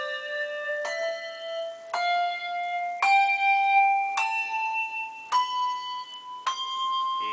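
Handbells played up the scale using a weaving technique: seven struck notes climbing in steady steps, each ringing bright and clear with a shimmering overtone before the next bell sounds, close and moderately loud.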